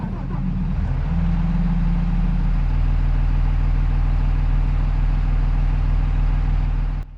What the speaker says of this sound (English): I'm going to crank it up here and listen to the engine.